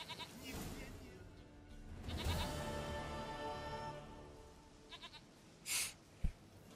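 A goat bleats in The Witcher 3 game world, a few short bleats heard faintly under a man's chatter, followed by a brief sharp click.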